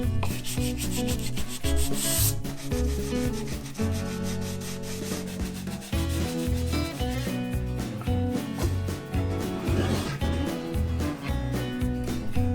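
Sandpaper rubs steadily against the end of a wooden dowel while making a simple TV stand, a continuous scratchy back-and-forth rasp with brief pauses and changes in stroke, close and alone.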